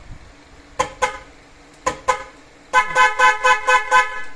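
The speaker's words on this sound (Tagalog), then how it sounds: "malakas din yung busina niya, pero kung Europa yan, mas solid na solid ang tunog niyan" Car horns on a Honda Jazz fitted with aftermarket Europa and FIAMM horns, sounded as two double honks followed by a rapid series of five short, loud toots, close by with no talk.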